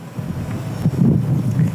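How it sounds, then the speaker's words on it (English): Gusty wind rumbles and buffets loudly against the microphone in uneven surges. "It's so windy."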